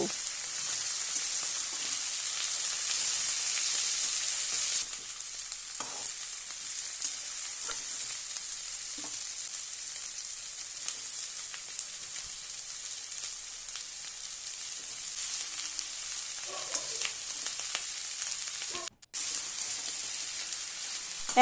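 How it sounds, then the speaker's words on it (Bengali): Shredded cabbage being fried for a cabbage dalna, a continuous crackling sizzle that drops a little after a few seconds, with occasional scrapes and clicks from stirring. "আর ভালোভাবে মেশাবো, মানে বাঁধাকপিগুলো ভালোভাবে ভেজে নেব"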